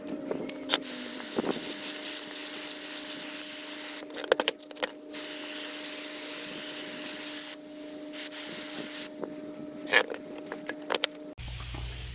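Repeated hissing spray bursts and steady scrubbing of a brush on 1977 C3 Corvette lower control arm parts, continuous and fairly close, with a few sharper scrapes and knocks, then a sudden stop near the end.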